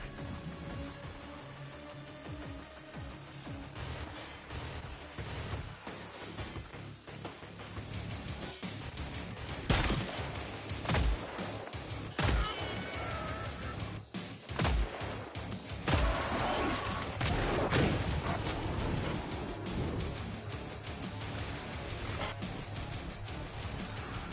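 Turrets fire during a Killing Floor 3 match, a series of sharp, loud bangs spread through the clip over a constant layer of game noise.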